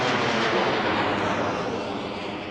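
Jet airliner landing at Reagan National Airport, heard as a steady, loud broadband roar that fills the whole clip and eases off slightly toward the end, with no talk over it.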